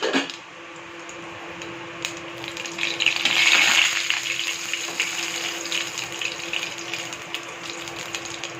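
Mustard seeds frying and spluttering in hot oil in a home kitchen, a continuous broadband sizzle that swells briefly into louder crackling midway before settling back to a steady hiss.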